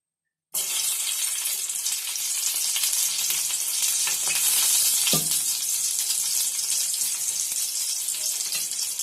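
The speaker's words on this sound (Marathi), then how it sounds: "त्यासाठी सर्वात आधी तेल टाकूया आणि आपला हा तेल तापला की त्यामध्ये लसूण टाकूया।" Garlic dropped into hot oil for a seer fish (surmai) fry bursts into a loud, steady sizzle that starts abruptly and carries on close up without a pause, with no voices.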